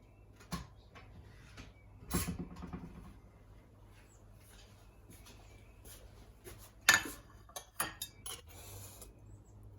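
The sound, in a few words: getting a plate, knife and fork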